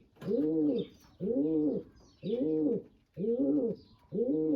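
Pigeons in a dovecote coo softly, with five evenly spaced low, rolling coos in a steady rhythm and faint chirps in the background.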